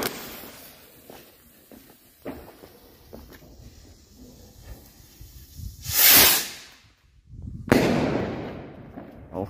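A Funke Liliput Weißflieger firework rocket launches with two sharp, hissing whooshes in quick succession over faint outdoor background noise, and no bang follows.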